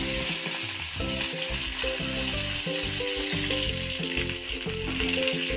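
Mustard seeds and cumin spluttering in hot oil while tempering for peanut chutney, a dense, loud, continuous crackle and sizzle close up, with no voices.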